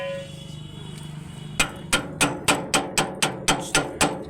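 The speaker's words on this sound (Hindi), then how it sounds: "इस पाइप की मदद से आप देख सकते हैं, इसको हल्का हल्का सा ठोक देंगे।" An e-rickshaw bearing is tapped into place with a pipe: after a faint hum, about ten sharp, evenly spaced metallic knocks ring out up close.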